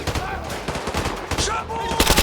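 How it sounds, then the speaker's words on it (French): Sustained machine gun fire from Call of Duty 3 during suppressive fire: dense, rapid bursts of shots that run close and loud across the whole stretch, with no speech over them. "Tire de suppression"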